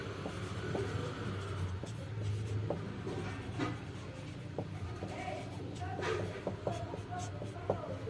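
A pen scratches continuously across paper while Java code is written out by hand, with faint rubbing strokes and small taps at a low, close level.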